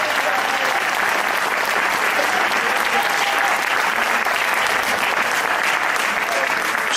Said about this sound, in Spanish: Dale un aplauso fuerte a Cristo.